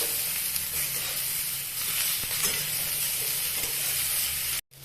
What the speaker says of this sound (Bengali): তো এবার আমরা পেঁয়াজ আর লঙ্কা কুচিটা দিয়ে দিচ্ছি। এরপরে ভালো করে নাড়তে হবে।